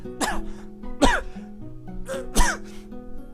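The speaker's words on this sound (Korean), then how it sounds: "기침을 뿜어내며 한동안 숨을 고른다." Coughing bursts and ragged breath-catching in a dating-sim video game after a choke hold, three sharp coughs spaced about a second apart, close and loud over a quiet backdrop.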